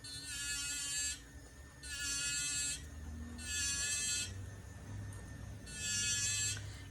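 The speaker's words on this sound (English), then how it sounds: "Turn on my flex shaft." A flex shaft rotary tool fitted with a Swifty One Step polishes a jewelry bezel setting, giving four high, buzzing whines of about a second each, separated by short pauses, heard up close.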